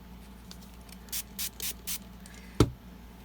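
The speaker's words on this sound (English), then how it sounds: "now I want to take my Tim Holtz and give that a squirt" A Tim Holtz spray bottle squirts ink onto craft paper, giving four quick, close, hissing spritzes in a steady row. A sharper knock follows them in an otherwise quiet room.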